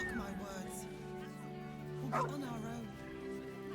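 A dog in Baldur's Gate 3 gives a short yip and bark-like whimper midway, set against in-game music and talking voices.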